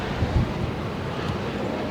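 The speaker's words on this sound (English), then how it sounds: "like Oklahoma, we've always got wind" Steady wind buffeting a microphone outdoors in Oklahoma, a continuous broadband rush with a few low gusty thumps and no voices.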